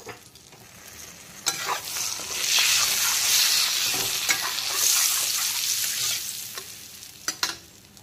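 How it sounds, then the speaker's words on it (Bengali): Nigella seeds and bay leaves splutter in hot oil left from frying potatoes and prawns, a bright crackling sizzle that swells midway, with a few sharp stirring clinks near the end. "এখন আলু আর চিংড়ি ভাজার তেলেই দিয়ে দিচ্ছি কালো জিরে আর তেজপাতা ফোড়ন"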